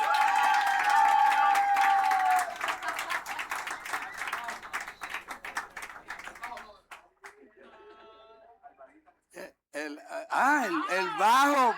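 A church audience claps for the wind players in a dense burst that thins out after several seconds, followed by scattered sounds and voices.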